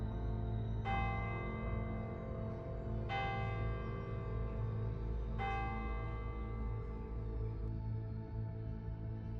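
A single church bell tolls three slow, evenly spaced strokes, each ringing out and decaying over a low steady hum, heard alone at a moderate distance.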